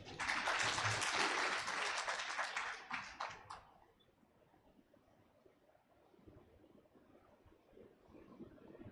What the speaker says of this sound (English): Another big round of applause for him.